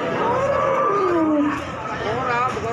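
A cow or bull lets out a drawn, falling moo at the Paing cattle market in Pati, where Pegon cattle are traded, the call loud and close over a murmur of background voices.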